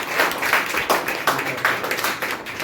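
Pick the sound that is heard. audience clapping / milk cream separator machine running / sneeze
audience clapping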